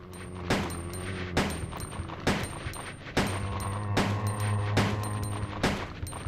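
Gunshots in the video game Resident Evil, roughly eight loud booming blasts at an uneven pace about a second apart over a constant low game hum, with no talk.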